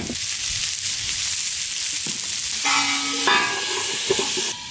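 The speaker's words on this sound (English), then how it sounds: "let's start by sauteing some onions and red peppers" Onions and red peppers sautéing on a flat griddle give a loud, steady, close sizzle, broken briefly by a scraping, ringing stir of a utensil across the metal.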